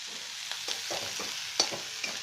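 Spices fry and sizzle in a pan for an onion- and garlic-free mixed vegetable dish, with a steady hiss broken by several stirring scrapes, close and continuous.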